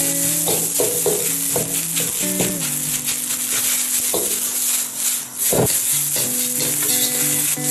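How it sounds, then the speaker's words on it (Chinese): Rice and scrambled egg stir-fried in a wok for shrimp fried rice, with a steady close sizzle broken by repeated scraping, tossing strokes of the spatula against the pan, continuing throughout without talk. "将米饭炒散"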